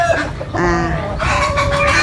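Gamecock stags kept as fighting birds, crowing and clucking close by in a steady run of calls with no talk over them.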